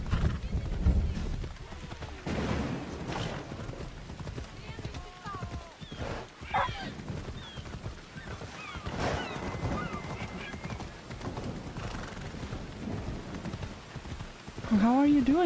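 Horse hooves clip-clop in a steady rhythm in Assassin's Creed Odyssey against ambient game sounds and light rain, with occasional whinnies and a voice speaking now and then.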